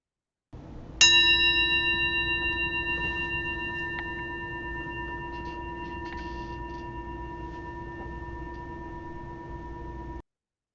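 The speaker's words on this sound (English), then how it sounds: "I can get this bell to ring." A single meditation bell is struck once and rings with a clear, sustained metallic tone that decays slowly over about nine seconds in a quiet room.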